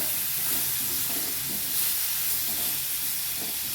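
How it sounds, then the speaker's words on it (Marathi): Potatoes coated with chili powder sauté in a pan, producing a continuous loud hiss and sizzle with soft rhythmic scraping as they are stirred, with no speech. "अशा पद्धतीने छान परतून द्यायचे बटाटा"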